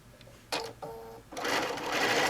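A sewing machine runs through quilt fabric strips in short bursts. Two brief starts are followed by a longer, steady run of close, even stitching, and no one speaks.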